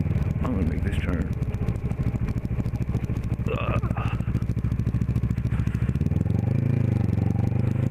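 The engine of a 2011 Kawasaki Ninja 650R drones loud and steady while riding, its pitch rising near the end as it accelerates, with wind noise and a rider's voice faintly over it.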